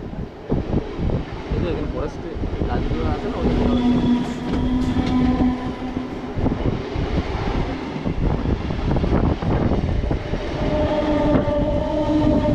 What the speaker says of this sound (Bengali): আমাদের ট্রেন এখন একটা টানেলের ভিতর ঢুকছে